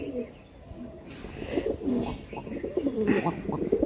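Aggressive pigeons at a pigeon sale coo in repeated throaty bursts, close and fairly loud, with several overlapping calls and a faint rustle of birds in the background.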